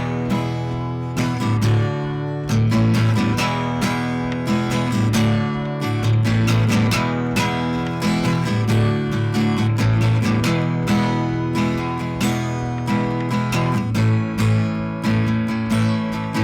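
Heavily saturated, dry acoustic guitar track from a studio re-recording of a song, played as a dense, driving, loud strummed part with rhythmic attacks throughout and no voices.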